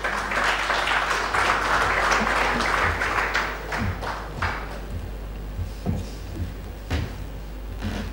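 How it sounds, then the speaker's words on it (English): Conference audience at a smart city infrastructure and transportation event applauding a speaker on stage, a full burst of clapping that thins out into scattered individual claps, over a low steady hum. "Please give him a big round of applause."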